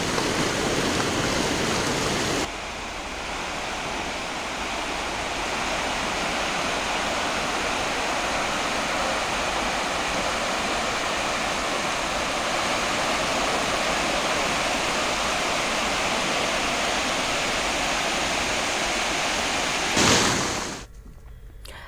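Water rushing through an opened gate of the Gangrel dam on the Mahanadi river, a loud continuous roar of broadband noise holding steady for about twenty seconds before cutting off abruptly.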